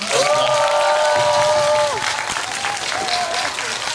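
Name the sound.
audience applause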